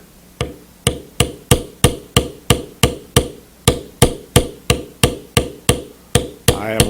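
A mallet taps a checkered beveler into leather, about seventeen sharp, close knocks struck at a steady, even pace with brief ringing decay after each blow.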